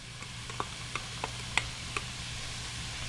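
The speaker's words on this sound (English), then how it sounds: "I'm going to add the onions now." Onions hit a hot pan for taco stuffed shells and sizzle softly, with a low steady hiss under a few light scraping ticks from stirring, close and fairly quiet.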